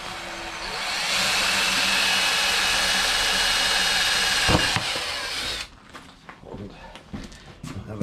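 A power drill drilling holes to mount a Shad top bag on a Can-Am Spyder RT whines steadily at high speed for several seconds close by, then stops, followed by clicks and handling noises.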